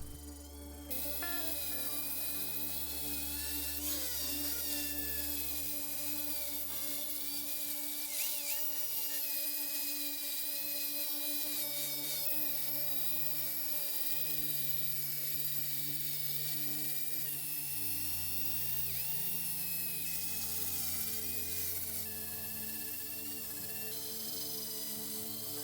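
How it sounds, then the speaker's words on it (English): Angle grinder roughing the bevels into a thick 12mm steel knife blade, a continuous high whining grind with shifting pitch and motor hum lasting the whole stretch, close and loud, with no talk. "the shape of the blade finally starts to reveal itself as the bevels are roughed in using the angle grinder"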